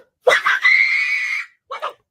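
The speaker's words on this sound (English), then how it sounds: "I just had to see her scream one more time, man." A woman lets out a shrill, sustained scream, then a short second shriek after a brief pause, loud and close.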